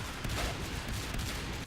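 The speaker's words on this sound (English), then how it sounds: "Ooh, shotguns out here." Rapid bursts of shotgun fire in the sci-fi shooter Natural Selection 2, loud and continuous for under two seconds as shots overlap into a dense barrage.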